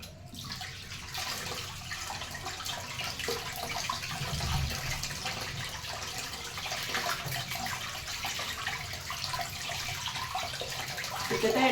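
A tap runs steadily for cleaning, water splashing continuously at moderate level, with a brief thump partway through and a slight rise in loudness toward the end.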